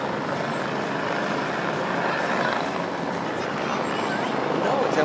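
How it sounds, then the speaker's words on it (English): A constant loud rumbling roar of an NYPD helicopter near a Manhattan bridge fills the air, steady and broadband with no pauses. "The helicopter's coming to the bridge."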